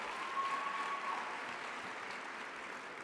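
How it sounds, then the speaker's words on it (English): An audience at an opening-remarks event applauds steadily, a dense, even wash of many hands clapping that stays at a constant moderate level throughout, with no voices over it. "Let's give a round of applause to Ann Fudge"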